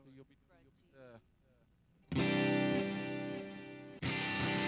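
After some speech, an electric guitar cuts in with a thick, crunchy distorted chord that rings out loud and sustained, then is struck again. The setting is a worship service.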